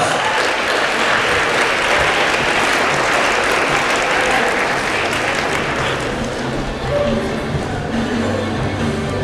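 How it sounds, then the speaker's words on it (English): An audience at a youth environmental awards ceremony claps steadily, a dense wash of applause that carries on for several seconds and eases slightly near the end. "Give him a round of applause."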